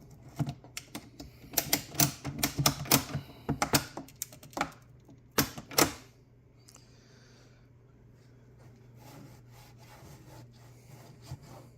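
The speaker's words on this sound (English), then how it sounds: "carefully give it one last ratchet" A ratchet clamp is tightened on an old Edison Music Master phonograph horn, giving a run of sharp, close clicks and ratcheting rasps in the first half before settling into quiet.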